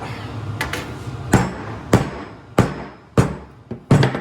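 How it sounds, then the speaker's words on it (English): Sharp metallic hammer blows land one after another at a steady pace, flattening a sheet metal quarter panel for a 1957 Cruiser, close up and loud. "Hammer this flat."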